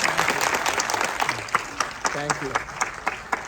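Theatre audience clapping at a film screening, a dense burst that thins into scattered individual claps while someone speaks briefly over it.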